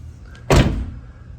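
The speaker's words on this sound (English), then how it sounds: "But the door does close if I push it hard enough." A car door is pushed shut with one loud, close thud that rings briefly, on a car being fitted with DIY side skirts.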